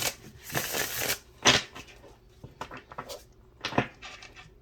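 A deck of cards being shuffled by hand in several quick riffling bursts, close and crisp, separated by short pauses and light handling noises.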